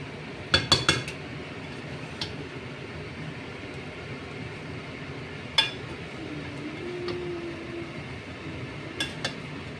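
Chicken biryani being stirred in a pot, with a few sharp metallic clinks of the spoon against the pot early on and scattered later, over a low steady background hum.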